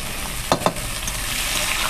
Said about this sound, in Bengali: পেঁয়াজ কুচি, টমেটো কুচি দিয়ে দিল।